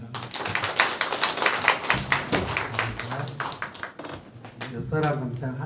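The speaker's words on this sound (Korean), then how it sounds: "하나님께 영광 박수 드립시다" A church congregation at an Easter Sunday service claps in scattered, uneven bursts while voices talk over it.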